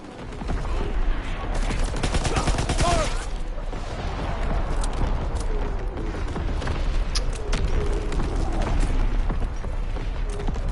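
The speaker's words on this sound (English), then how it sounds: "Incoming enemy artillery. Get to cover." Incoming enemy artillery fire in a video game, a continuous barrage of gunfire and distant booms with mechanical clatter, loud and dense throughout, with a voice speaking over it.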